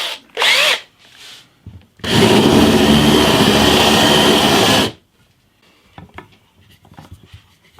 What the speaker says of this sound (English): What I need to do now is just to countersink it a bit.